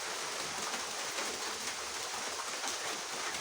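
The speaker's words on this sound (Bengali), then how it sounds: "এই যে সকাল থেকে প্রচুর বৃষ্টি।" Heavy rain pours steadily in a village in the morning, a dense, even hiss of water falling on surfaces with no talk.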